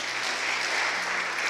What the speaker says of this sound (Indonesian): Tepuk tangan dulu supaya jangan saudara tegang.